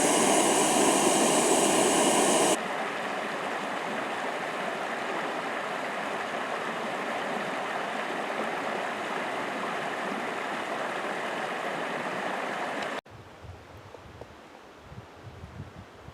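Water of the Black River in Arizona flowing steadily at a campsite, a broad even rush close by with a louder burst at the start, then cutting to quieter outdoor ambience.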